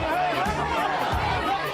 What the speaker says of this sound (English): That was the crowd that greeted conservative writer Ben Shapiro as he was attempting to give a speech